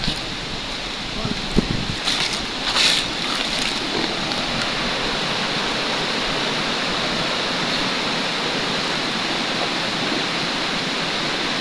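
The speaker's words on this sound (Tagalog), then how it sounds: "Ito po tayo sa tabi ng sapa ngayon guys." Broadband rushing of a creek flowing beside the path, steady and fairly loud throughout, with a few faint knocks and movements early on.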